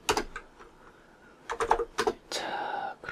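Keys clicked on a computer keyboard in a short Ctrl+C combination to stop a running Node.js process, a few quick taps separated by pauses, with some voice mixed in.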